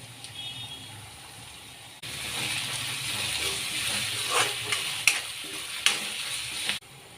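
Onions, curry leaves and green chillies fry in a pan with a steady sizzle that jumps louder after a couple of seconds, broken by a few sharp scraping stirs before it cuts off near the end.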